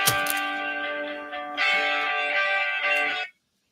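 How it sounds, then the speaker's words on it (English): An alarm sounds indoors, a steady buzzy electronic tone rich in overtones that plays for a little over three seconds and then cuts off abruptly into silence. "That's my alarm to go get my kid."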